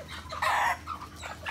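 A well-fed rooster kept with a flock lets out a loud, close crow that swells and fades within about a second, followed by softer clucking calls from nearby chickens.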